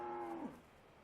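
A cow moos once in the Farming Simulator 15 game, a short, low, fairly loud call with a falling pitch, alone and close by, fading out after about half a second.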